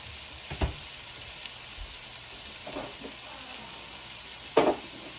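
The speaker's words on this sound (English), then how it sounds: "So I'm sauteing up my chicken and my vegetables all together." Chicken and vegetables sauté in a pan with a faint, steady hiss, broken by a few soft clatters of stirring, heard alone and fairly quiet.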